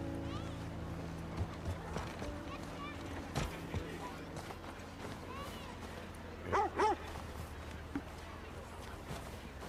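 In The Last of Us Part 2, a dog gives a few short yips and whimpers close by. They come in two quick bursts near the end, over a low ambient hum and soft background voices.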